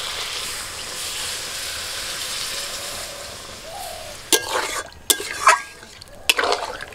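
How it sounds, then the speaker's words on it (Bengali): A quiet, low sizzle of spiced potatoes in a pan gives way to several sharp, loud bursts of hissing and splashing as water is poured in. "এখন জল দিয়ে দিচ্ছি।"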